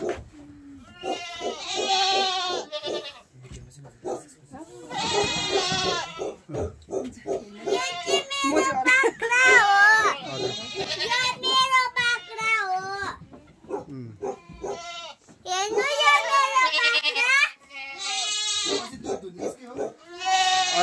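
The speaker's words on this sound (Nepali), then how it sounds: "सानियन गोठ सबै यो चाहिँ सानियन बाख्रा हो" Saanen goats bleat in a farm shed, many overlapping wavering calls in bursts one after another, loud and close, with no pause in the chorus.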